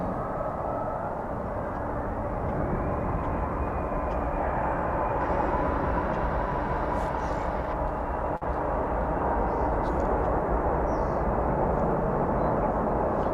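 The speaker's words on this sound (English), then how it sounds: "here comes an A321 in your view here. That's landing on runway 18 right from Austin" An American Airlines Airbus A321 landing on runway 18 right at Dallas Fort Worth airport, a broad continuous jet roar with a rising whine, steady and moderately distant throughout.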